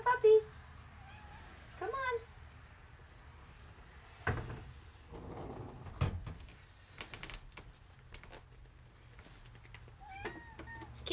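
A cat meows several times indoors, with short distinct cries near the start and again near the end, mixed with door or drawer clatter and a person speaking softly.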